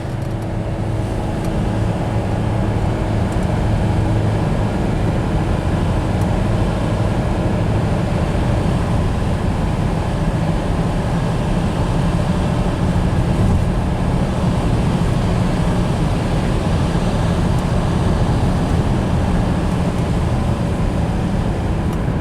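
An all-wheel drive car with a CVT transmission, just fitted with a new staked U-joint, drives steadily; a continuous low road and engine rumble holds even and loud from start to finish, with no speech.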